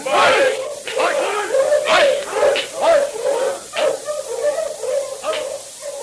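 Sled dogs in a radio drama bark and yelp repeatedly in a rough, uneven rhythm, loud and close, with excited voices mixed in among the barking.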